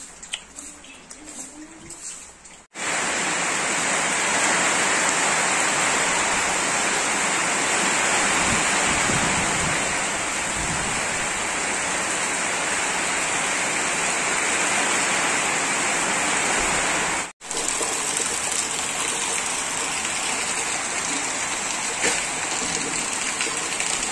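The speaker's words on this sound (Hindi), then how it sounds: "फिर पूरे दिन बारिश ही होती रही" Heavy monsoon rain in a village roars in a dense, steady wash after a brief quieter start, with one short gap before the downpour resumes just as strongly.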